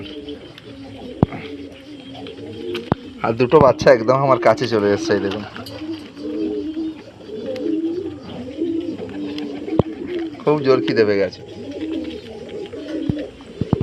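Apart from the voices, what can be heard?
pigeons cooing while feeding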